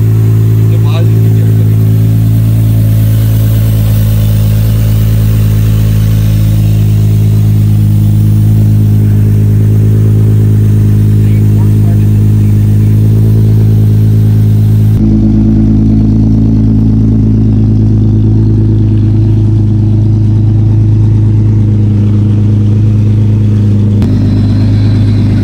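A Toyota Mark X 250G car engine with a 2GR engine runs with a steady low rumble and harmonic drone through most of the stretch, dropping slightly partway before picking up again, while people talk nearby.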